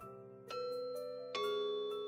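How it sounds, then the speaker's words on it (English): A doorbell in a video game sounds its glossy iron chime, two clear ringing tones struck in sequence, each sustaining and overlapping, with steady faint background ambience and no speech. "press down on the glossy iron doorbell"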